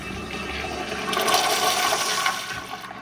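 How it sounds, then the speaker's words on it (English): A Kohler Dexter siphon jet porcelain toilet flushes with a strong, steady rush of water that swells and then tapers off after a few seconds, close by, with no gurgling. "So now when we flush, rather than this long fill up process and then gurgle down as it, gravity flows down,"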